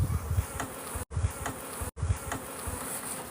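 Honey bees buzz around beehives at an apiary, a dense, steady droning hum close by that continues through two brief dropouts, with no talk.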